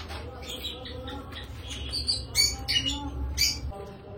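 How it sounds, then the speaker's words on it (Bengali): Lovebirds in a breeding colony chirping as they come to their food, several quick high tweets and chatters that grow busier midway, heard close up over a low background rumble. "লাভবার্ডদেরকে যে আমরা খাবার দিলাম, ওরা এখন খেতে চলে আসবে।"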